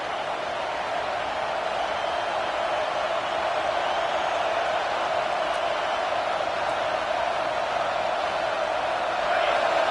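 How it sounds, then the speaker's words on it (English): A football stadium crowd at an Arkansas game roars steadily on a third-down defensive stand, a broad, sustained wall of cheering noise that swells slightly toward the end. "Decibels rising as the crowd gets behind this defense on 3rd down."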